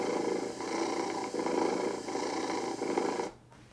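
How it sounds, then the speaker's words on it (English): A pet domestic cat gives a non-solicitation purr, steady and regular, a continuous close rumble heard alone that cuts off abruptly near the end. "the non-solicitation purr from my cat, and you'll see that it's a very regular purring, classical purring type sound"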